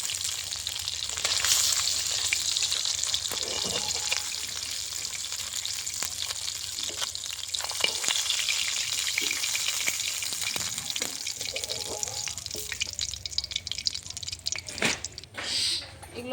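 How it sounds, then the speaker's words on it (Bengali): Hilsa fish frying gently in hot oil, a steady sizzle with scattered pops and crackles and occasional utensil clatter, close and continuous throughout. "মাছগুলো আমি হালকা করে ভেজে নিচ্ছি, এখন নামিয়ে নেব।"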